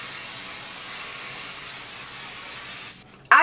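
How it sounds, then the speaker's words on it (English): Sebastian Shaper Dry Brushable Hairspray sprays in one long, steady hiss from an aerosol can for about three seconds. The spray stops abruptly and a brief clatter follows. "I am going to use the Sebastian Shaper Dry Brushable Hairspray"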